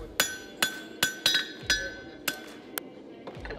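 In a blacksmith's shop a hammer strikes metal in a series of sharp, ringing blows, about eight in a loose, uneven rhythm, close and clear with no voices.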